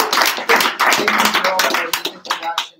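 Audience members at a blockchain panel clap briefly for a co-host, a scattered, uneven round of claps that tapers off within about three seconds.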